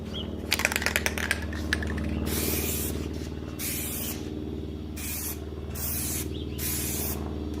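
Aerosol can spraying a coat of Plasti Dip onto a car headlight, with repeated bursts of hissing spray separated by short pauses, close-up over a steady low background hum.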